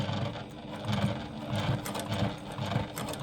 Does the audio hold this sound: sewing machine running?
yes